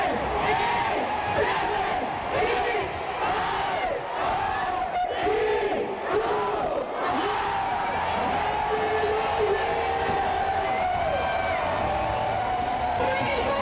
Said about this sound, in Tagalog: Pinuno ng walang pagsidlang hiyawan at ingay ang Seaside Boulevard.